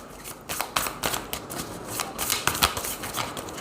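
Tarot cards are shuffled by hand in quick, uneven riffling bursts with crisp papery flicks, close up and steady throughout, with no talking over them.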